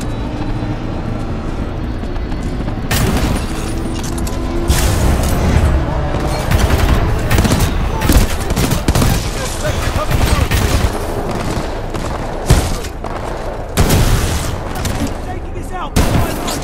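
Sustained gunfire and explosions during Titanfall gameplay, dense and loud throughout with repeated bursts and booms, mixed with other game noise.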